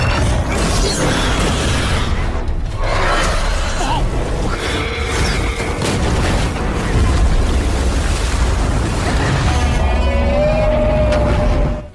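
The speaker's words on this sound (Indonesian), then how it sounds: "secara tiba-tiba gunung di sana seketika meledak" A mountain erupts in an explosion in the animated series Journey To Immortality, a loud, sustained rumbling roar with crackling, creaking debris that fills the whole stretch and fades abruptly at the end.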